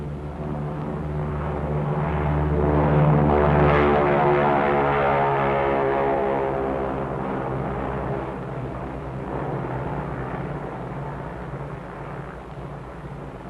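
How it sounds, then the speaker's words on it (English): A B-29 bomb-carrying aircraft drones on its propeller engines on the way to the Bikini target, a deep harmonic hum that swells to a peak after a few seconds and then settles into a steady, slightly fainter roar. "the B-29 Dave's Dream, bomb-carrying aircraft"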